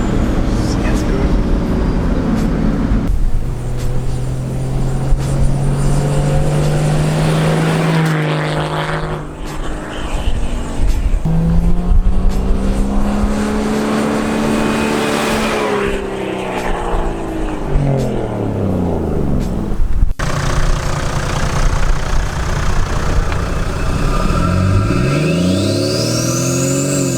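A turbo-diesel Toyota HDJ79 Land Cruiser with a FATZ Fabrication airbox accelerates from inside the cab. Turbo whistles rise and fall in repeated sweeping spools and the engine drones loudly, with people talking over it.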